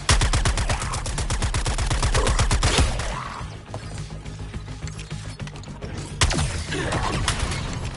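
Rapid automatic gunfire from the Suicide Squad Kill The Justice League video game rattles out in a dense, steady stream of close shots, then breaks off into scattered combat noise with a few later bursts.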